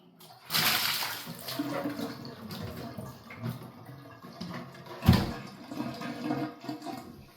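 Water runs and splashes in a sink while parts of a Honeywell Quiet Care humidifier are rinsed and scrubbed, with irregular sloshing bursts and a sharp knock near the end.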